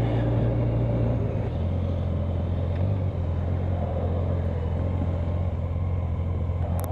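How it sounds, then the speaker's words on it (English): Busy highway traffic passing a Yamaha FJR 1300 motorcycle on State Highway 1 near Paekakariki Hill on a holiday weekend, a steady loud low engine and road rumble throughout with no talk. "Holiday weekend traffic, I guess."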